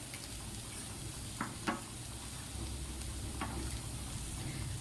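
Leftover roti pieces cook in a pan with a little oil, giving a quiet, steady sizzle with a few soft scraping clicks as they are stirred.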